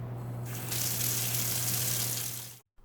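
Warm tap water runs steadily from a faucet for handwashing, a continuous close hiss that swells after half a second and stops abruptly near the end, with no talking.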